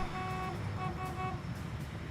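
A vehicle horn in Halo Infinite honks several times in short repeated toots over a steady engine rumble, fairly close and loud.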